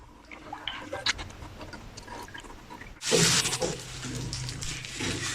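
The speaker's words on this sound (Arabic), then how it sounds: "وبشطفه هيك عشان إذا كان في أتربة أو أي حاجة كله بينزل" Water first drips and trickles, then a tap gushes steadily as cabbage is rinsed under it, close by with handling noises.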